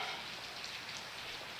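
Steady rain falls as a dense, even hiss of drops on surfaces, continuous and fairly loud with no voices.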